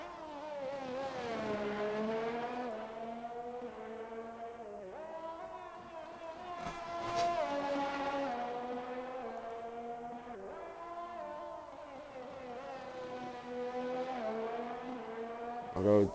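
Onboard race car engine on the DRS straight, a continuous high revving drone climbing through the gears with brief dips at each upshift, close and loud throughout, with a commentator's voice faintly under it.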